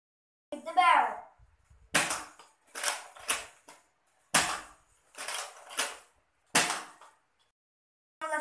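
A Fortnite SP-L toy blaster is fired several times in a row, each shot a short, sharp snap spaced about a second apart, with a brief voice heard at the start.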